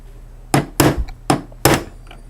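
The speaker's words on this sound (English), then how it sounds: "Got my hammer, going to go ahead and pound that out." A hammer pounds a trigger pin out of a Browning Double-Auto shotgun, four sharp metallic strikes in an uneven rhythm, loud and close over a low steady hum.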